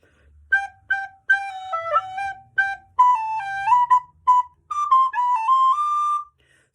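Recorder playing the sixteenth-note line from Eine Kleine Nachtmusik, a quick series of bright, breathy tones in short phrases with brief gaps, close and clear, solo with no talk.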